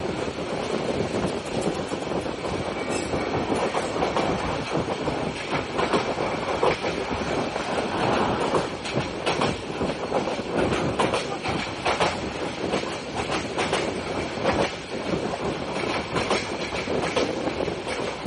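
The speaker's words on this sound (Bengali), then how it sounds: "আমাদের ট্রেনটি এখন চট্টগ্রামের ভাটিয়ারি রেল স্টেশনের আগে ভাটিয়ারির অসাধারণ একটি কার্ভ অতিক্রম করছে।" Cox's Bazar Express rolls through a curve before Bhatiari station near Chattogram, a steady, loud rumble of wheels with rhythmic clicks and some wind buffeting, heard alone without voices.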